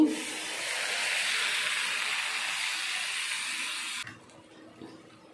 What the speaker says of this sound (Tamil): அரை கப்பு தண்ணி